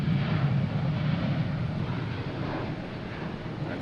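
A Delta Boeing 737 MAX jet takes off at Boston Logan, heard as a steady, broad engine roar that holds at an even level throughout without fading, with no voices over it.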